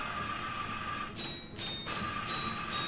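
Metallic mechanical grinding from rail grinding in the Ratchet & Clank video game, a steady whirring scrape with short ringing accents that dip and return, continuous and moderately loud.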